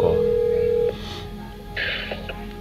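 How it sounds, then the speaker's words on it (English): A single steady tone sounds for just under a second, like a phone's dialing or keypad beep, followed by quieter room noise with faint voices and rustling. "Let me make that phone call."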